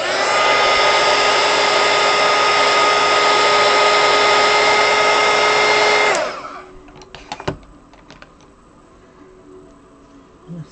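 Close, loud heat gun or hair dryer drones steadily while heating paint on a Doctor Strange artwork, then cuts off abruptly, followed by a few light clicks and handling knocks.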